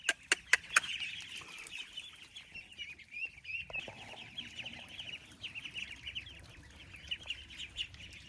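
Chickens cluck and chicks peep on a small fenced farm, a steady chatter of high bird calls with a few sharp louder peeps near the start, close by and with no talk.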